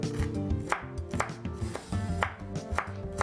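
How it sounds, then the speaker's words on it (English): A knife chops celery for chicken soup in a quick, steady rhythm of crisp, close strikes against a cutting surface, about a dozen chops over a few seconds with no talk. "So I'm going to cut it up just a little more finer than that."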